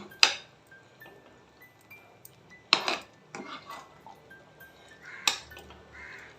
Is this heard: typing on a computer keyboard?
no